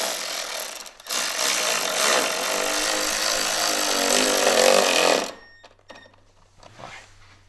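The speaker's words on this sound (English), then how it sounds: "now that that's complete, we can install our bracket. We're going to add 2 T30 screws." A power driver runs steadily for about five seconds, broken by a short pause near the start, while fastening two T30 screws into a bumper bracket on a 2023 Ski-Doo Expedition SE 900 ACE. It is loud and close, then cuts off to quiet workshop clatter.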